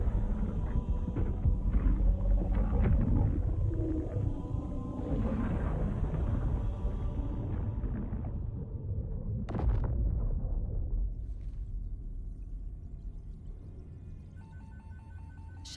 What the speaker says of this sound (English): the anniversary explosion noises